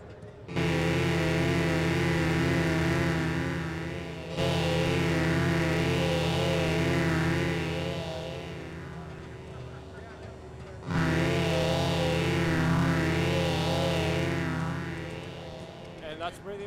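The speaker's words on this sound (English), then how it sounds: "And then it's the phase shifter." Dreadbox Abyss polyphonic analog synthesizer played through its phase shifter effect, sustained rich chords with slowly sweeping swirling tones, loud and close, in three long held phrases with a brief gap between them.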